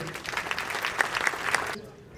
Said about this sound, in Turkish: herkesten ben kentim adına bir alkış istiyorum